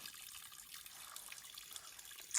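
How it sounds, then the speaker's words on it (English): Cold spring water runs out of a bank beside the Appalachian Trail with a strong flow, a steady faint trickling and splashing outdoors with no talking. "It's coming out of a spring about 20 feet up the bank."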